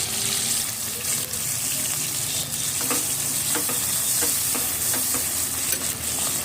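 Dried red chilies, bay leaf and ginger-garlic paste fry in hot oil for a fish curry with drumsticks and potatoes, giving a steady close sizzle with scattered scraping stirs and light clinks throughout.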